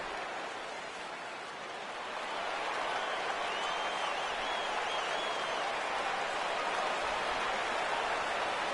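Steady broad roar of a stadium crowd in a baseball video game, a Mets at Nationals matchup, swelling slightly after a couple of seconds and holding a constant wash with no talk over it.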